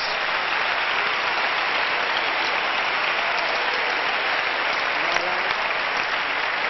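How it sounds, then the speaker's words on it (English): A congregation at a prayer meeting claps hands steadily and loudly, a dense continuous wash of applause with no pauses and no voices standing out. "Clap your hands."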